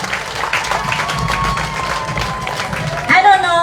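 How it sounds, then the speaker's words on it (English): An audience claps at an outdoor Amerindian village celebration in Mainstay Whyaka. The applause is steady and dense and rises slightly near the end, with voices mixed in. "I think I agree with your applause. I think you can do better."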